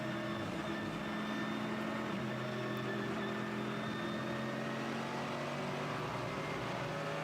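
A Porsche race car engine drones steadily at Mugello circuit during a 12-hour race, a continuous mid-distance roar with a constant pitch and no distinct passes.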